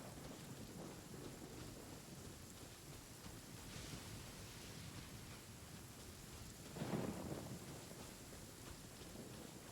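A thunderstorm with lightning in the video game Genshin Impact: steady heavy rain roars throughout, and a low thunder rumble swells partway through, with no one talking.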